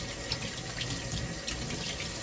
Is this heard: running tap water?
yes